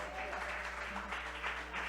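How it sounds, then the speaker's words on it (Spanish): Church congregation applauding during a Spanish-language Sunday worship service, a steady wash of clapping at moderate level lasting throughout with a low hum underneath. "¿Quién le puede dar un aplauso al Señor?"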